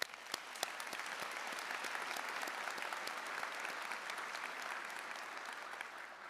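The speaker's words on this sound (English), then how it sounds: "Let's give our security team a quick round of applause." Audience applause for a university security team at a 2023 commencement ceremony, a steady, dense roar of many hands clapping that stays even throughout.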